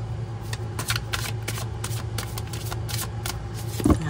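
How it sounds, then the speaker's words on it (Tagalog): A deck of playing cards is shuffled up close, with repeated crisp riffling bursts in a steady rhythm and a final tap as the deck is squared. "Balasahin lang muna po natin ang baraha."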